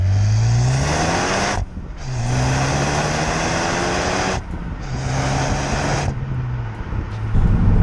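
A factory 2016 Ford Focus ST engine revs hard and close, climbing in pitch toward 4,000–5,000 RPM, with three rising pulls separated by sharp drops at the gear changes.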